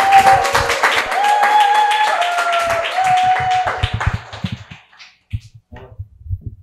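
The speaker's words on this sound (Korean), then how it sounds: "박수로 환영해 주세요." A church congregation claps to welcome a pastor, the steady clapping blended with sustained keyboard music, then thinning to a few scattered claps and taps as the music ends.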